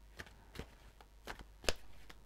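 Tarot cards are shuffled with a few soft, scattered slaps and riffles, then one sharper snap near the end, quiet and close.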